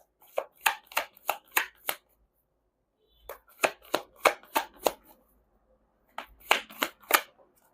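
Tarot cards being shuffled by hand: three bursts of quick, crisp riffling flicks, each a run of five or six sharp snaps, separated by short silences, close and clear with no talking.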